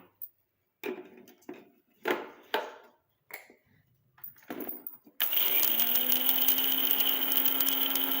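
A mixer grinder grinding herbal hair powder, starting with several short pulses separated by silence, then a loud, steady whirring run to the end.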